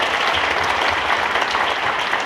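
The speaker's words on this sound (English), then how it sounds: "If y'all could please help me give them a big round of applause and thank you for their contribution." Banquet audience at a high school athletic hall of fame induction applauding sponsors, a dense, loud, continuous round of clapping throughout.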